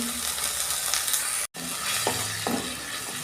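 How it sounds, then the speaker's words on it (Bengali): Spice masala for chicken masala, with coriander and cumin powder and a little water, sizzling and frying steadily in a pan, with a brief break in the middle and a couple of light scraping stirs. "মশলাটা আমি কষে দিচ্ছি"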